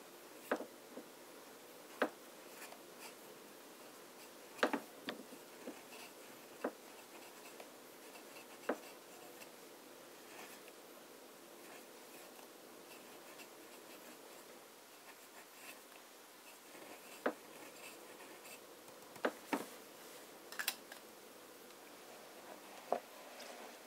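An italic-nib fountain pen scratches across paper, laying down Waterman Havana Brown ink in a quiet, steady drone broken by a few sharper ticks and taps; faint and close, with no voices.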